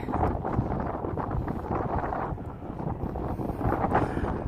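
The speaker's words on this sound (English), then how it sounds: "On a windy, sunny morning, this wind is messing with me." Strong wind buffets the microphone in a continuous loud roar on a sunny morning on the Las Vegas Strip, gusting slightly stronger near the end, with no other sounds.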